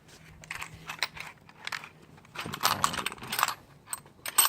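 A 9mm socket handled for a cylinder head screw on a GY6 180cc scooter engine's top end: light metallic clinks and ratcheting clicks in scattered short bursts, close and fairly quiet.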